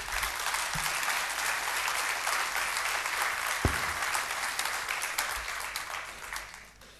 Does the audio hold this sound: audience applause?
yes